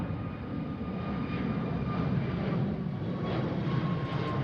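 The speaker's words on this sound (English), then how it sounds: "Really quiet aircraft, though." Jet aircraft at Seattle-Tacoma airport, a steady, fairly quiet engine rumble and roar heard from a distance, continuous throughout with no talk.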